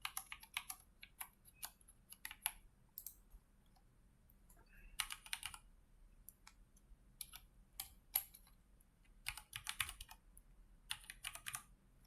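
Keystrokes on a computer keyboard as a password is entered, a quiet, irregular run of sharp clicks in short bursts with pauses between, no talking, against a faint low hum.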